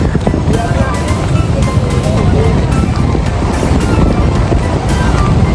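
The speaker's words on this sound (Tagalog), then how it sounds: "Ah, lakas ng hangin sa Luneta." Strong wind at Luneta Park in Manila buffets the microphone with loud, constant roaring rumble and gusty noise throughout.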